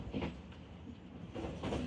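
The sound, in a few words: train crossing bridge over Ravi river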